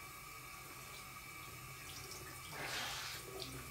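Cool tap water runs into a sink to wet a washcloth during a skincare routine, a steady faint stream that swells louder near the end.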